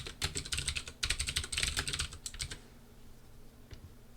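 Quick bursts of clicky keystrokes on a computer keyboard in a lecture setting come close and clear for about two and a half seconds, then fade to a quiet room hum with one stray tap.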